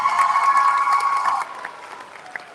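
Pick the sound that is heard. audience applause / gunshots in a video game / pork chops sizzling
audience applause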